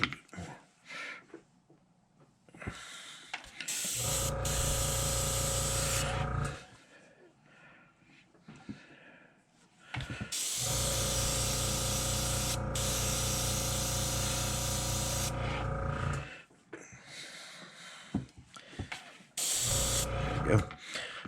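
Airbrush spraying paint at turned-down pressure onto a crawfish crankbait lure through a stencil, heard as several long bursts of steady hiss separated by quiet gaps with soft talking.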